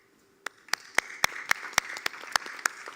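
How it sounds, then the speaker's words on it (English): An audience at an urban policy forum claps, with sharp, uneven handclaps building into scattered applause over a few seconds, nearby and moderately loud. "We can applaud."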